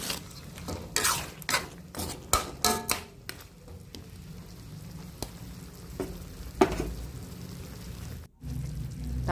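Potatoes and carrots sprinkled with salt are stirred in a pan, bringing a burst of loud scraping, clattering utensil strokes close by that gives way to a softer sizzle with scattered knocks.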